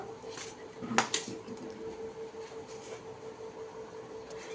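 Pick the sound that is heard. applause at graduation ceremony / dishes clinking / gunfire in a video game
dishes clinking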